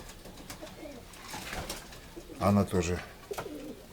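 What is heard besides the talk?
pigeons cooing in a loft, silky dove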